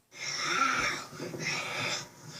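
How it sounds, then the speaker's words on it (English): Heavy, wheezing breaths rasp close up in two long drawn-out pulls, loud and alone, heard during a Bowser Jr Halloween story. "like heavy breathing or something, because it's kind of getting on my nerve"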